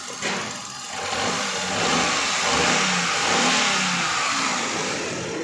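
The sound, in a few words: car engine running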